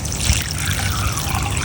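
Water pours steadily into the reservoir of a self-watering garden planter, a continuous close trickle and splash with no pauses.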